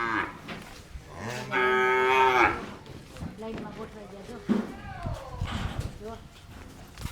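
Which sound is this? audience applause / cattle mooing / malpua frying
cattle mooing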